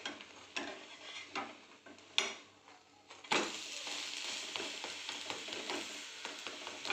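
Fasting thalipeeth fries in a pan just after being flipped, with a few scraping, tapping handling noises followed by a steady close sizzle that swells after the turn.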